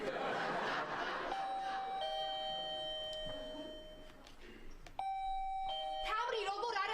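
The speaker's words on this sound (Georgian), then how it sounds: "როგორ არავინ კარზე ზარია?" A doorbell at a home's front door chimes twice with clear ringing tones, sounding over people talking and laughing nearby.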